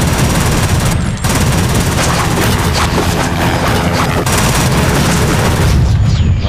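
Troops opening fire in World in Conflict, a loud, continuous barrage of machine gun and rifle fire with scattered booms, dense and unbroken for several seconds.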